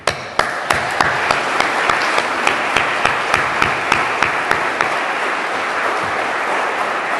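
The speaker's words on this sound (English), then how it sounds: "I want to invite folks to give a round of applause to Jane" Round of applause from a climate and energy summit audience, steady crowd clapping with a few sharp, regular claps standing out close by.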